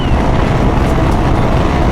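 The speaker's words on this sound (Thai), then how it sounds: "โอ้ลมโคตรแรงเลย" Strong wind buffets the microphone on a motorcycle ridden fast in a low crouch at about 90 km/h, a loud, continuous roaring rumble with no break.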